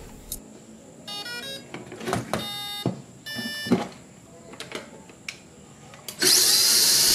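A brushless motor upgrade on a WPL D12 RC truck spins the rear wheel, with intermittent whirring bursts and tonal whines that build into a loud, steady high-pitched rush near the end.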